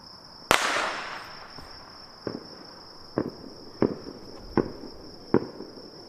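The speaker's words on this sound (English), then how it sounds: "It did not sound like a regular firework." Fireworks outdoors: one loud, close, booming explosion followed by five sharper, fainter cracks at irregular intervals, with a steady high insect drone running underneath throughout.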